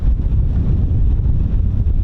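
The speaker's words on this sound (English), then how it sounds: "It's extremely windy" Strong wind buffets the microphone outdoors at RAF Holbeach air weapons range, a constant low rumbling roar that fills the whole clip with no pauses and no voices.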